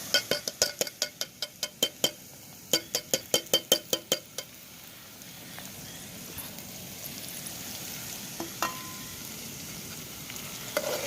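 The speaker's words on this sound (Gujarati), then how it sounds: "લસણ ને મરચી, આ લસણ ને મરચી નાખીશું અંદર." Garlic and green chilli frying in a pan of oil for a village-style paneer curry, a run of sharp stirring clinks and taps at the start, then a steady close sizzle with occasional clinks.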